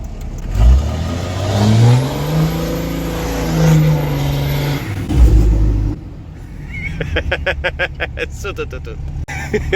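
Cummins diesel hotshot truck with a full 5-inch exhaust and downpipe revs up loudly and close in a rising, sustained roar, then drops to a rough rapid idle; someone talks over the engine.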